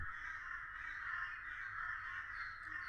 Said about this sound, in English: A flock of crows?